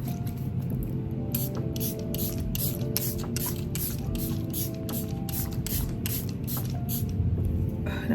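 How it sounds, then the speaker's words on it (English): Rapid bursts of makeup setting spray (Makeup Revolution Super Hold) hiss in a steady series, close and loud, with faint mechanical clicks of the pump between sprays. "I'm gonna set my face with this Makeup Revolution Super Hold Setting Spray."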